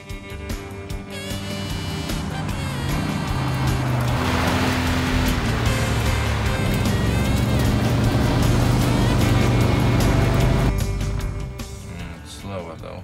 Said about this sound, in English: They call it stock car racing.